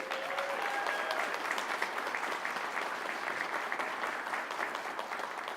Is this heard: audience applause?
yes